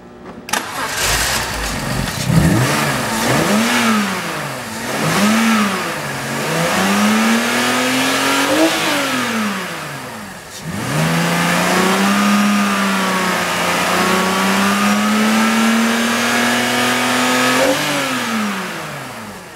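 A 2004 BMW X engine cranks and catches, then revs up and down in several loud, close pulls, settles briefly, and rises again into sustained higher revs before easing off, with no talking.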